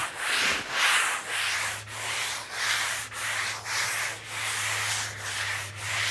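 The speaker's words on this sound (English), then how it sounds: "we're going to take this sponge, lightly sand the entire wall" Sanding sponge rubbing lightly across a painted wall in steady back-and-forth strokes, a close, soft rhythmic scratching repeating about once per second, with a faint low hum beneath and no talk.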